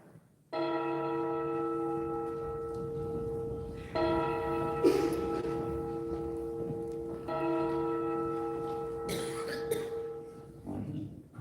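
A church-style bell tolls three times during a stage play performance, each strike ringing out and decaying slowly at an even pace, with a brief clatter and faint stage noise between strikes.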